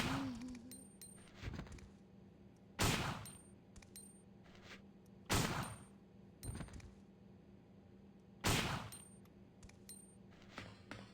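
Magnum revolver shots from Resident Evil 2 (1998), four heavy booming blasts spaced a few seconds apart over a low game hum, each with a sharp attack and short decaying tail, plus a few fainter clicks and thuds between.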